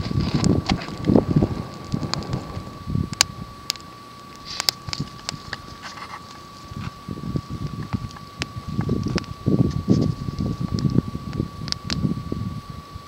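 Wind gusting across an open outdoor spot beside a small campfire, a steady rough blustery roar with buffeting on the microphone, punctuated by brief sharp crackles and ticks near at hand throughout.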